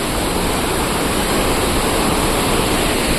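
Hundru Falls, water rushing down nearby as a loud, dense, unbroken roar filling the whole clip.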